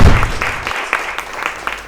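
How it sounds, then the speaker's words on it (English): Audience applause at a LiuGong machinery launch event, a short burst of clapping that starts loud and tapers off over about two seconds. "Put your hands together for a virtual round of applause"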